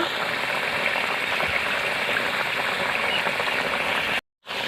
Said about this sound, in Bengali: মাছগুলো দিয়ে একটু সময় ফুটিয়ে নেব